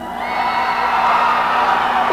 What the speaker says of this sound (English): Who are these people who are cheering for you?